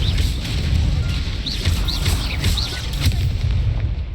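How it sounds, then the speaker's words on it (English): Incendio fire spell cast in the Hogwarts Legacy video game: dense, continuous roaring combat noise with rumbling booms and repeated bright whooshing bursts, loud and steady throughout. "Incendio."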